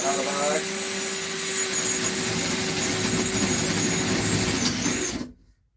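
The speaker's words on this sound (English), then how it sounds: "drill 2 holes when cutting out of the" Power drill boring two holes through a box during a room remodel with wall paneling, a steady loud whine running continuously for about five seconds before stopping abruptly.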